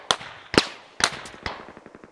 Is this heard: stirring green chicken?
no